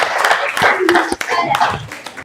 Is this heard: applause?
yes